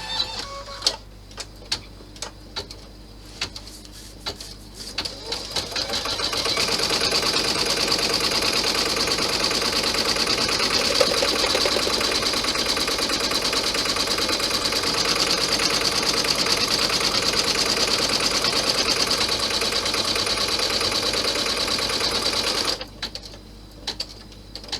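An embroidery machine stitches out an outline in a long, steady run of rapid mechanical whirring and ticking. Scattered clicks come before the run starts, and it stops abruptly near the end, with no voices.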